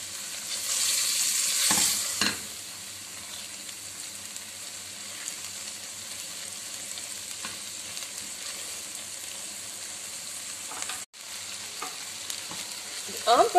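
Okra masala with yogurt fries in a pan, a steady soft sizzle throughout with occasional scraping stirs and clinks from the spoon.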